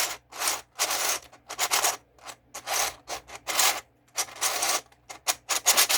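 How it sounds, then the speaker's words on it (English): A 3D printed Retrograde 3x3 puzzle cube turned in quick bursts, each twist giving a dry, scratchy rasp of plastic layers grinding, close and clear with short pauses between the rapid finger-trick moves. "It's got the scratchy sound of a standard 3D printed puzzle"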